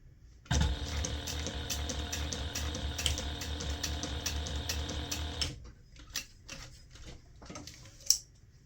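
A sewing machine stitches the lining sides of a small gift bag together at a quarter-inch seam, running steadily and loudly for about five seconds with a rapid mechanical whir, then stopping, followed by faint handling clicks and rustles.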